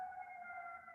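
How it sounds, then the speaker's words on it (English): A siren wails steadily in the distance, a sustained two-tone pitch holding for the full second with no other sounds. "I apologize for the siren going by."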